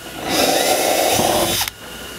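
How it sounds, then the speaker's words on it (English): A power drill with a 7/32 bit boring a hole into the plastic hull of a Jackson Kayak Cuda during rudder installation, giving a short, close, steady whine that cuts off abruptly. "We're going to use the 7/32 drill bit to drill a hole inside the void here."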